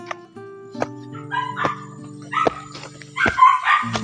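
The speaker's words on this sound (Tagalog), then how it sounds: "Ayun, puro aso lang yun dito." Dogs bark from inside a house, several sharp barks at irregular intervals across about four seconds, moderately close and clear, with no one talking.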